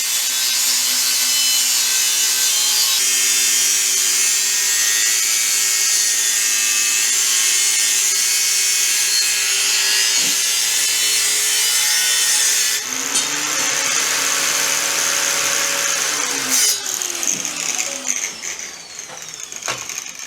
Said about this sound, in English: So we can slow that down now. So it's not so hard on the grinder.